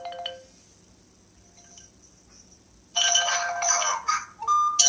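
A telephone rings with an incoming call on a radio call-in show: a brief chirp at the start, then a loud, bright electronic ring that runs on for a couple of seconds.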